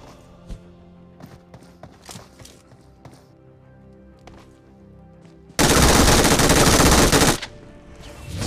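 A loud, sustained burst of automatic gunfire in PUBG Mobile rings out after several quieter scattered shots and footstep-like taps.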